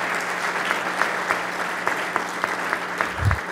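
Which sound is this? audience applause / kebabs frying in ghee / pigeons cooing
audience applause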